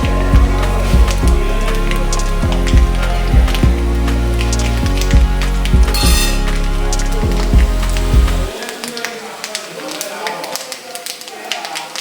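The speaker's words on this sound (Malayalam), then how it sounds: "കടുക് നന്നായി മൂത്ത് കടുക് പൊട്ടി കഴിയുമ്പോഴത്തേക്ക്" Rapid crackling pops of mustard seeds spattering in hot oil, dense and irregular, over a low steady hum that drops away near the end.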